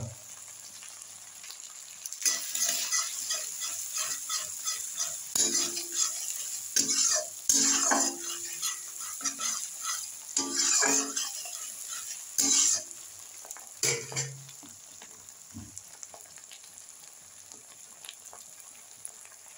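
Ginger garlic paste sizzles steadily in hot oil in a pan while a utensil scrapes and stirs it, giving repeated close clinks and scrapes over a constant hiss.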